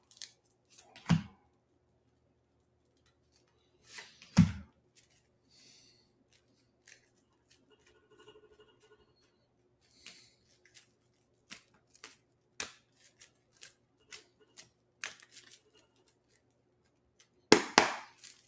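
Tarot cards are shuffled and laid down on a surface in a quiet room, with sparse soft riffles, light taps and a few louder slaps spread out over a long stretch.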